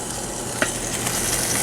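Spatchcocked chicken sizzling on a modified Weber Smokey Joe kettle grill, a steady broadband hiss of fat and juices crackling close by, with one brief sharper pop partway through.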